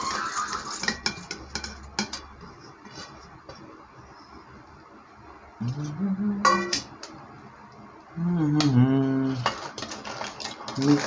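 Cooled ingredients for gongura pachadi spooned into a mixer grinder jar: sharp metallic clinks and taps of a spoon against the jar, scattered and close, with a voice talking in between.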